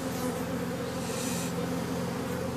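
Honeybees swarm and hum around an open hive during an inspection, a dense, steady buzz close by that fills the whole moment without any voices.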